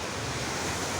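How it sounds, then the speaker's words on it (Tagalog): Ocean surf at a beach in Lianga, Surigao del Sur, a constant dense wash of breaking waves mixed with wind buffeting the microphone, loud and steady. "Beach na ito."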